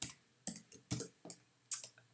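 Keys clatter on a computer keyboard in short separate bursts, about six quiet clicks spread over two seconds, close and alone.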